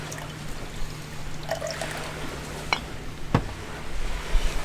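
Captain Morgan spiced rum poured into a tiki mug, a quiet trickling stream with a few small clinks over low background hum, fairly faint and close.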